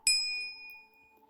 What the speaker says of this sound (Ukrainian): Активований вами дзвіночок активує сповіщення про всі наші відео